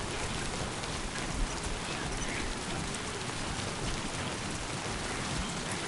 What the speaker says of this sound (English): if it rains again, like it's doing now.